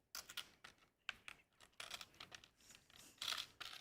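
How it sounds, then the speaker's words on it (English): Quiet, irregular clicking of computer keyboard keys in short bursts and pauses, faint and close, with no talk. "He's only typing things in our computer."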